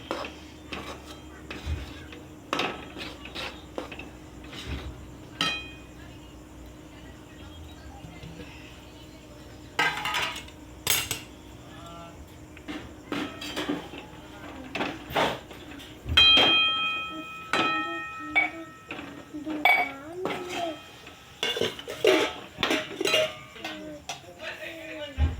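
Crushed peanuts are stirred into melted jaggery in a pan, giving sparse, scattered clinks and scrapes of a spoon against metal over a low background hum, with busier bursts of stirring toward the end.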